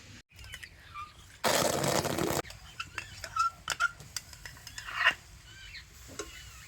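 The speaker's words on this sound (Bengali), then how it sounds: "আর এবারে আমি কড়াতে দিয়ে দেবো তালের পাল্প।" Thick ripe palm fruit pulp poured into a wok for making pitha: a dense, rushing splat of about a second, then scattered scraping stirs and light clinks against the pan, close and fairly quiet.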